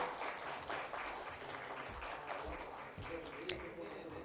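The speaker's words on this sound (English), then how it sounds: "A big round of applause, ladies and gentlemen." Applause from the audience at a business conclave and awards event, a fairly quiet, even patter of many hands clapping that is heard from some distance in a large hall, with one sharper clap standing out near the end.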